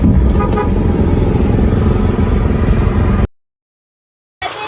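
A loud, steady vehicle horn blaring continuously for about three seconds, close by, then cutting off abruptly.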